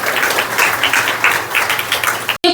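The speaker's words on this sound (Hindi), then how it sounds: "तो सबसे पहले जोरदार तालियों से उनका स्वागत करेंगे" Audience clapping to welcome a singer at a Brahma Kumaris Guru Purnima gathering in Agra, a dense burst of applause that swells in waves and then cuts off abruptly near the end.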